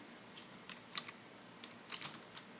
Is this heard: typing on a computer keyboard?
yes